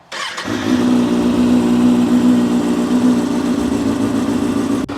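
A 2024 Kawasaki ZX6R sport bike engine catches and settles into a steady, loud idle to warm its oil, a brief start burst followed by an even hum, with no talk.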